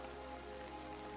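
Rain taps gently on window glass in a soft, even patter, steady and unbroken with no voices.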